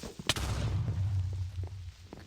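A single sharp explosion from a Minecraft creeper on hard mode, a close booming blast followed by a rumbling low tail and some scattered debris sounds.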